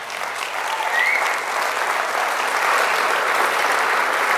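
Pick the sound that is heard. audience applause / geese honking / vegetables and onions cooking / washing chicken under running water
audience applause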